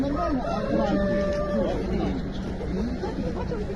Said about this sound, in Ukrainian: Тут півні.